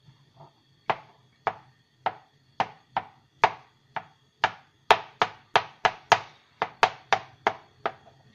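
A spoon breaks SPAM apart for budget quark-SPAM patties, about sixteen sharp, evenly spaced knocks against a hard surface, crisp and close with no talking.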